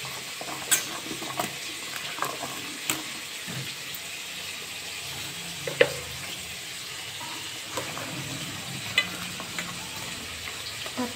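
Chicken pieces sizzling and frying in a pan for a Bengali kachu chicken curry, with steady crackle and occasional scrapes and clinks of a stirring utensil against the pan, no talking.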